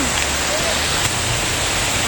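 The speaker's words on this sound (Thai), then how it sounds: "น้ำตกอยู่ตรงนี้" A waterfall in a forest roars with a loud, steady wash of rushing water heard close by, a dense continuous hiss filling the whole moment with no pauses.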